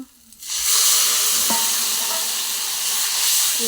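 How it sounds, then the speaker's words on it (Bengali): Water splashes into a hot pan of frying taro stolons, bursting into a loud, steady sizzle and hiss that swells after a quiet start and holds close and bright to the end. "এখন একটু আমি জল দেব।"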